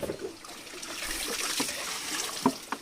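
Water trickling and dribbling out of the bottom of a jar used as a homemade fishing trap, a faint continuous thin flow with a few small drips and splashes near the end.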